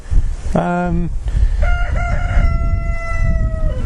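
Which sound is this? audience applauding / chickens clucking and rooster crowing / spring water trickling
chickens clucking and rooster crowing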